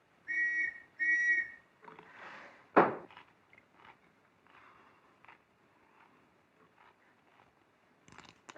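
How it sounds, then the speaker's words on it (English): A whistle blows in two short, sharp blasts, followed by faint shuffling, a clatter and quiet indoor sounds, in a 1934 Alfred Hitchcock film. "The whistle that was blowing just now."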